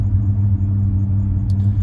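A pickup truck engine runs with a newly installed exhaust manifold, giving a loud, steady, low rumble for a couple of seconds with no change in pitch.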